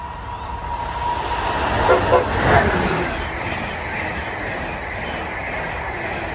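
An Amtrak train passes through the station at Bristol, Bucks County, Pennsylvania, with a steady, loud rumble and rail roar that swells briefly near the middle, where a short toot may sound.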